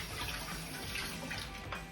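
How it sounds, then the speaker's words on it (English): Fruit washed under a running kitchen tap, a soft steady rush of water that stays even and fairly faint throughout, with no voices. "first step, we're gonna quickly wash our fruits"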